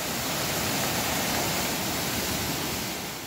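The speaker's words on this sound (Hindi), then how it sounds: "केम्प्टी फॉल किसी जबरदस्त तेज बहाव वाले झरने की तरह नजर आ रहा है" Kempty Falls in Uttarakhand pours in heavy flood flow, a loud, dense, unbroken roar of crashing water close by, steady throughout with no voices.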